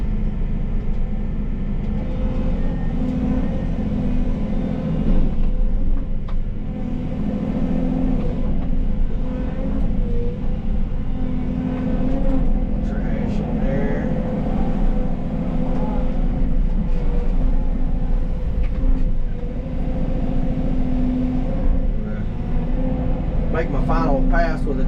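A skid steer loader working on the front of an earthen dam, with a continuous low diesel engine drone and rumble holding steady throughout and occasional clanks and higher whines near the end.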